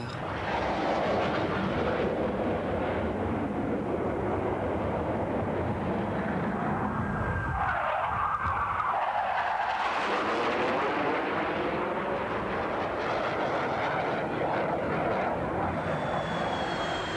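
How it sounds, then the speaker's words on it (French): F-18 fighter jets roar loudly through an aerobatic display, a continuous, dense engine blast that swells and shifts pitch as the aircraft pass. "on vole sur des F-18, les avions les plus performants du monde"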